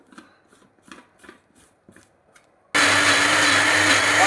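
A mixer grinder whirs loud and steady at close range, grinding coconut, turmeric, cumin and chili powders, garlic and a little water for spinach curry, after a few seconds of quiet tapping and handling sounds.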